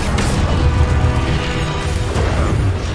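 Incendio fire spell cast in Hogwarts Legacy during a duel, a loud, heavy burst of flame with booming, crashing impacts that fill the whole moment with dense noise.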